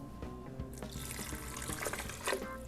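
Vinegar poured into a bowl of kimchi ingredients with carrots and garlic, a steady splashing trickle running for a few seconds at close range with no talk.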